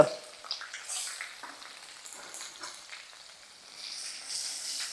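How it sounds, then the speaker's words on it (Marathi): Curry leaves and asafoetida crackle and sizzle in hot oil, a bright spattering hiss with scattered pops that rises again toward the end. "बघा अशी मस्त खमंग फोडणी तयार व्हायला पाहिजे"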